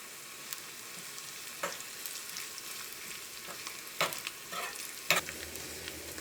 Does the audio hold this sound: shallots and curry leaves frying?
yes